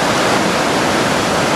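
The James River rushes over the fall line rapids in downtown Richmond, a loud, continuous roar of churning whitewater with no breaks.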